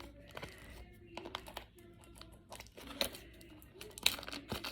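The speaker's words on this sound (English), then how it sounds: "So I got my scissors with me. And let's go ahead and open it." A package is cut open with scissors: quiet plastic crinkling and rustling with a few sharp snips and tears, close by, intermittent over a soft background.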